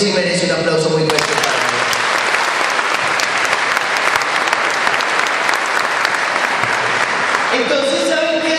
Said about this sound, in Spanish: Y eso sí merece un aplauso muy fuerte.